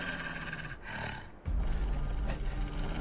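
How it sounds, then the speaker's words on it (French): A wolf's low, rumbling growl plays as a sound effect in a tabletop role-playing game, steady and loud, with a thicker, heavier burst of rumble partway through and no voices. "Le loup s'arrête de grogner, tu vois."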